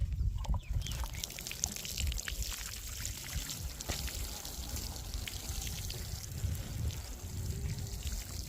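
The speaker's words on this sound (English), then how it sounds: "after that I'm going to water this" Water pours steadily onto garden soil freshly mixed with fertilizer in an autumn vegetable garden, a continuous splashing trickle with a faint bird nearby.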